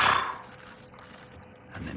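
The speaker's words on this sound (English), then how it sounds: "an elephant sighing, blowing air heavily out of its trunk" An elephant at Ngala Private Game Reserve blows air heavily out of its trunk in one breathy, rushing exhale at the start, followed by quieter rustling and a faint second puff of air.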